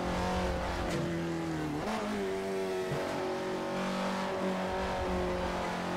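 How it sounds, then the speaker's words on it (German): An Abarth 595's small engine in the racing game Assetto Corsa revs and pulls through the gears with a loud, buzzy tone that steps up and down, and there is a faint tire squeal. "das ist ein Abarth, gell? 595. Der hat auch einen geilen Sound für so eine kleine Kiste."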